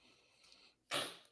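A single sneeze rings out close and loud after a short quiet intake, ending the brief moment.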